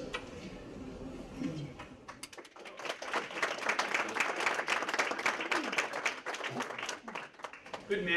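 An audience in a lecture hall breaks into sustained applause after a talk on political satire, many hands clapping steadily and fairly loud for several seconds, preceded by a few seconds of quieter room noise and murmuring.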